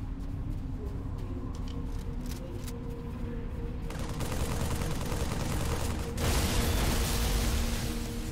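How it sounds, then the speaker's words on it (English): Sustained automatic assault rifle fire in the Halo 3 video game, a dense continuous rattle that grows louder and harsher partway through, with a low mechanical rumble underneath and no talking. "the assault rifle just tears them up"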